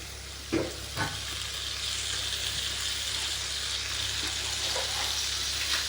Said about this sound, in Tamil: வதக்கி விட்டுட்டு ப்ரான் எடுத்து போட்டுருவோம்